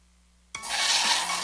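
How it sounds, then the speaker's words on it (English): After a brief quiet hum, a sudden loud grinding, whirring blend starts and continues steadily as a Dairy Queen Blizzard treat is mixed. "This is the sound of a blizzard treat at DQ."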